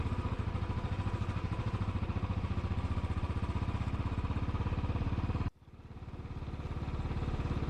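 Motorcycle engine running steadily with a dense rapid firing rhythm as the rider passes through floodgates in rural Gloucestershire, loud and close throughout, briefly dipping near the end before the revs build back up.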